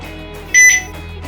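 A single short, loud electronic beep from a multimeter's continuity buzzer during diagnosis of an IMAX B6 mini charger, a steady tone lasting about a quarter second over a constant background hum.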